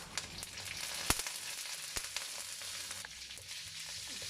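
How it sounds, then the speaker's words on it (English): Cumin seeds sizzle in hot oil in a pan as the base for an Indian-style canned sardine curry, with a steady close frying hiss broken by a few sharp pops and crackles. "with some oil. To this I add in some cumin seed."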